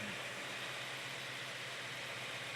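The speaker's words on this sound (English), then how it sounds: "Best running little engine we've had in a while" A small engine idling steadily on a test stand, an even low rumble with constant vibration and no change in pitch, heard alone without voices.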